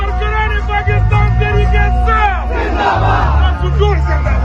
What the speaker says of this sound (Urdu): عمران خان زندہ باد کے جو نعرے ہیں وہ لگائے جا رہے ہیں جی